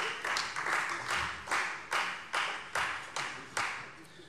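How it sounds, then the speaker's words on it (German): Applause from members in a German state parliament plenary session in Hesse, heard as a rhythmic series of about eight loud bursts of clapping, evenly spaced and swelling then fading in quick succession, with no voices. "Applaus"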